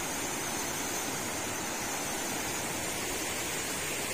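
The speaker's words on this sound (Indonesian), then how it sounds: "Air sungainya lagi banjir besar nih." Floodwater rushing down a swollen river at night, a steady loud broadband roar of churning water that fills the clip without pause.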